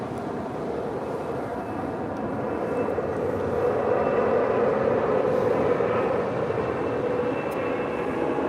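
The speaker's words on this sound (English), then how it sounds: "I'm gonna start because we do have a" A heavy MD-11 jet at LAX produces a continuous low rumbling engine drone, moderately loud and slowly swelling, with no talk over it.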